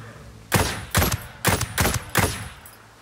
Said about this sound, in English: Incoming sniper fire! Sniper's about to fire on us!